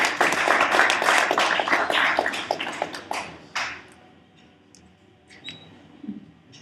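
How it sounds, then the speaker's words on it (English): A small group claps together for a few seconds after a startup pitch at a 1 Million Cups Tulsa event, the applause thinning to scattered claps and fading into quiet room noise. "let's give a round of applause for SayAh."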